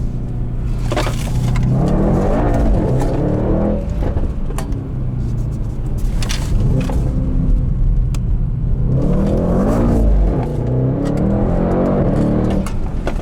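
A 612 hp Mercedes E63S 4-Matic Estate accelerates hard under launch control with a loud, close engine roar. It rises through the revs in repeated surges and drops briefly between gear changes, and nobody speaks.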